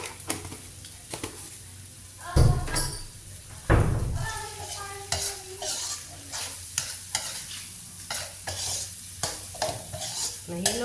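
Food being stirred in a cooking pot with a utensil makes scraping and clinking strokes in an irregular rhythm over a soft sizzle, with a couple of louder knocks near the start.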